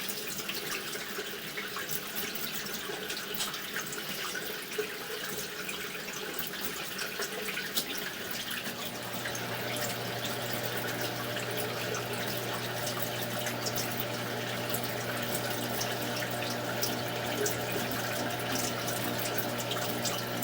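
Water runs steadily from a faucet as a line is flushed out, a continuous hiss and splash that grows fuller about halfway through and stays even, with no talk.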